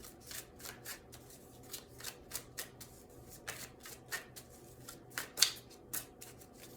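Oracle cards being shuffled by hand: a quick series of soft riffling flicks and papery slaps in an even rhythm, close and fairly quiet, with no voices.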